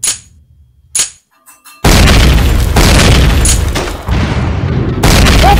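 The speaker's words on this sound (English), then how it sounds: "That's grenades!" Grenade explosions in a military video game: a few sharp distant pops, then heavy booming blasts erupt and roll on loudly, with further bursts layered over the rumble.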